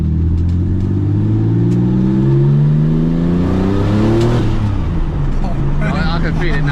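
Porsche 911 GT2 Evo 993 engine inside the car, a loud, close drone that rises through sweeping revs and throttle blips, with people talking over it.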